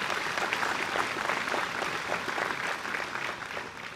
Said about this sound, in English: Let's give them a round of applause for our second group.